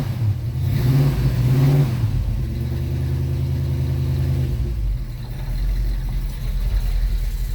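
A 1969 Ford truck engine runs in 20-degree cold with its choke set for summer, rumbling loud and close and rising in a rev near the start before settling into a rough, uneven idle.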